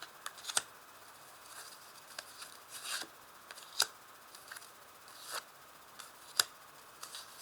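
A deck of playing cards being cut in two and handled, giving faint scattered snaps and riffling clicks with soft rubbing in between, fairly quiet and close with no talk.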